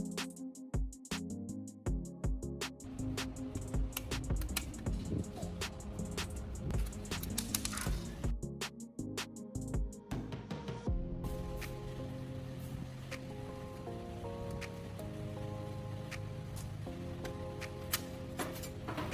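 Screws are being backed out of the casing of an old digital TV receiver box, with a run of small scraping ticks and clicks from a screwdriver that gives way to quieter, steadier handling noises, all close up and without speech.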